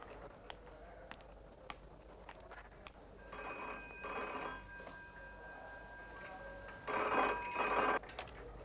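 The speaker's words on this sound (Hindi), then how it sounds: "हेलो फोन डॉक्टर सतीश साहब को दीजिए प्लीज।" A telephone rings in two bursts of a steady electronic trill, moderately loud over a quiet room with a few faint clicks and knocks.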